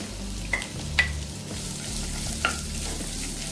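Onion slices and curry leaves dropped into a pan of frying chillies for a roasted coconut chutney, a soft steady sizzle with a few light scraping clicks of a spoon, close and fairly quiet.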